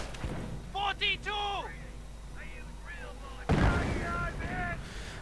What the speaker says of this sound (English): Mortar hitting the MG42, but the MG42 advances.